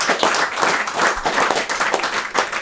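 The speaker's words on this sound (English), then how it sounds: "I just want to give the guys a round of applause" A small audience applauds two guest speakers at an informal talk event, with steady, fairly loud clapping that rises and falls in slight waves for a couple of seconds, without voices.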